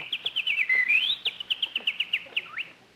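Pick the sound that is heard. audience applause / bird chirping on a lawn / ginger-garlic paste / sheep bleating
bird chirping on a lawn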